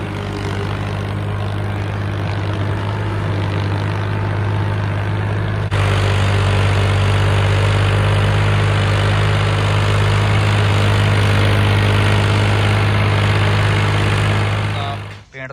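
A Ford 45 HP tractor engine runs loudly and steadily nearby, a low droning rumble that grows a little fuller partway through and cuts off at the end.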